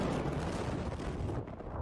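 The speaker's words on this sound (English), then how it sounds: "A second massive explosion that some described as like an earthquake." A massive explosion at the Beirut port sounds as a dense, rumbling roar. It is sustained across two seconds, heard at a distance and alone, with no voices.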